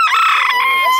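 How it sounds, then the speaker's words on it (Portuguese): A rooster crows loudly and close up at an open-air chicken market in Arapiraca, one drawn-out cock-a-doodle-doo call lasting about a second. "E o galinha aqui tá virado cantando."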